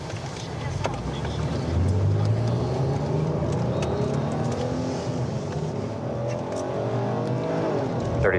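A truck engine drones and revs steadily as the vehicle drives up, a loud continuous motor rumble with rising and falling pitch throughout, voices faint beneath it.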